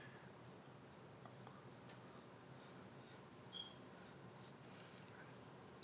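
A brush paints the side of a Dollar Tree Easter craft, giving a faint, soft, scratchy stroking close by with a few light taps, no talking.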